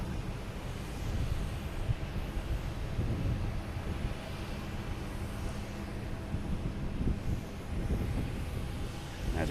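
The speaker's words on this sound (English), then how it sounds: "We have a JetBlue just came in from Nantucket." A JetBlue airliner arriving from Nantucket rolls in at Boston Logan Airport, a faint, distant, steady jet roar mixed with wind buffeting on the microphone.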